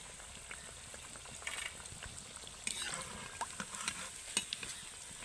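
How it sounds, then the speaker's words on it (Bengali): Cabbage pakoras frying in hot oil, a faint continuous sizzle with scattered crackles and bubbling pops, plus a few clinks as the pieces are stirred and turned. "একইভাবে বাকি পকোড়াগুলোও ভেজে নেব।"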